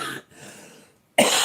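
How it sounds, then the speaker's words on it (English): A person chokes on weed smoke and gives a couple of harsh, close coughs, one burst at the start and another at the end, with a brief quiet gap between. "I've got a weed cough right here"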